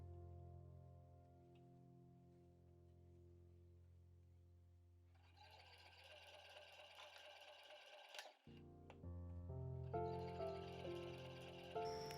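A sewing machine stitches the bottom of a small fabric bag with an orange peel pattern, in two close bursts of quick rhythmic whirring separated by a brief pause. A low steady hum plays before the stitching begins.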